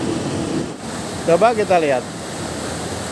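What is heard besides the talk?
ocean waves crashing on rocks at the beach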